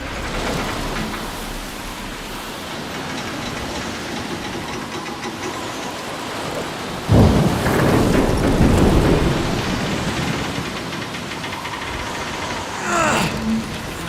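Thunderstorm in the game Transformers: Fall of Cybertron: a loud, continuous wash of rain and rumble, with a heavy thunder crash about halfway through and a shorter crack near the end.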